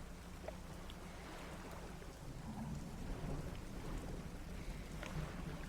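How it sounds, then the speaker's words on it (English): Thunder rumbles low and distant through steady rain, a continuous dull roll that swells slightly midway without any talk. "It's just thunder."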